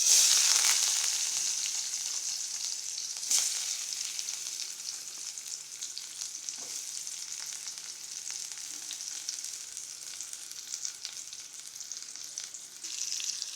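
Onions and tomatoes sauté in a pan with popped mustard seeds, giving a steady close sizzle that hisses loudly at first and then settles, with a single brief stir clack midway and no voices.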